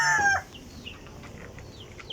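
In a backyard, a rooster's crow cuts off at the start, followed by soft scattered clucks and chirps from chickens nearby.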